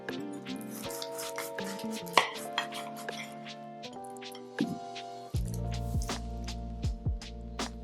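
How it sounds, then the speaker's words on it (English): A knife slicing through a breakfast burrito, with soft crunching and squishing cuts and scattered clicks against a plate, fairly quiet and close, with a steady faint hum underneath and no talking. "I kind of want to cut into the middle of this and show you"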